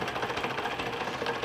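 A three-channel inside-out Bidini magnet motor with one neodymium magnet per driver rotor runs steadily, giving a fast, even buzzing chatter of rapid pulses at close range.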